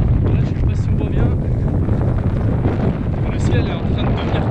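Wind rises on a mountain trail in the Dolomites before a storm, making a loud, constant rumbling buffet against the microphone throughout.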